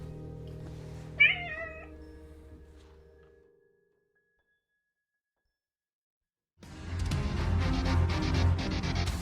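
A little black cat gives one short, clear meow close by over a low ambient hum, followed by silence and then a dense, loud wash of music.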